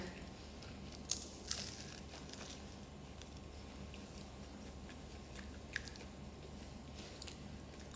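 Soft, close chewing and biting of rice during a meal, quiet wet squishing mouth sounds with a few faint clicks, steady and low over a faint background hiss.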